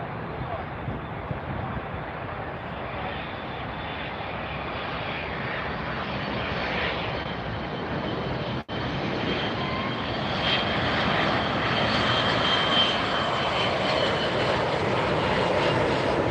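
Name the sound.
cargo airplane at Miami Airport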